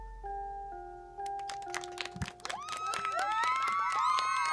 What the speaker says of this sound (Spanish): Le aplauden los nenes